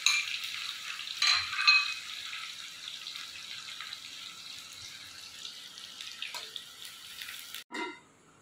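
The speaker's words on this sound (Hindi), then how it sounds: "पकौड़े मैंने निकाल लिए, इसी में मैं प्याज डाल दूंगी लाल के लिए।" Onions drop into the hot oil left over from frying pakoras and sizzle with a steady, fairly quiet crackling hiss that lasts throughout, with a few louder spatters near the start.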